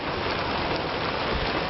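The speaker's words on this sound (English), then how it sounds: "It's finally just raining." Steady rain falls on a car windshield, a dense, even patter that fills the whole stretch at close range with no pauses and no voices over it.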